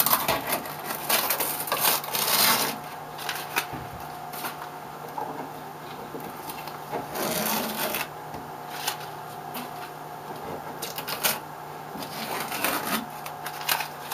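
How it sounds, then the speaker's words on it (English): Paper pattern and masking tape being peeled off scroll-sawn wood for a deer plaque, a close, papery ripping and crackling that comes in uneven bursts over a steady background hum. "we can go ahead and peel up the pattern"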